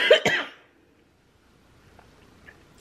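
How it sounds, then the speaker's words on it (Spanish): A woman coughs in a quick burst of two or three loud, close coughs at the start, followed by near silence with faint room ticks. "perdón, disculpen con mi tos"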